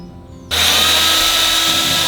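A power drill runs continuously at full speed while U-bolts are mounted on the steering assembly of a homemade go-kart built from a tree trunk. It starts abruptly after a short quiet moment and stays loud and close, with no talk.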